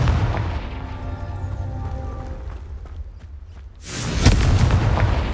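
A heavy booming blast of the Confringo fire spell in the Hogwarts Legacy game, a loud explosive burst after a stretch of rumbling game ambience and music.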